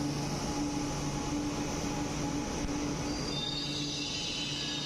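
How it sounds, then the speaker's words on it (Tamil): A Chennai Metro train pulls into a station with a steady rumbling hum, faint wheel squeal and a rising hiss near the end; no one speaks. "ட்ரெயின் இப்போ தான் வருது. ட்ரெயின் வந்துருச்சு."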